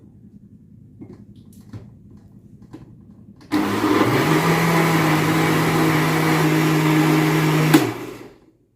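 After a few quiet taps and clicks, a kitchen blender mixing mango milkshake starts abruptly with a loud, steady whirring drone, runs for about four seconds, then winds down and stops.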